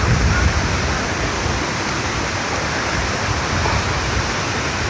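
A swift, deep river current below the Kambas Ulak Lebar waterfall in Ogan Komering Ulu, South Sumatra, makes a loud, constant rushing roar that fills the scene evenly from start to finish.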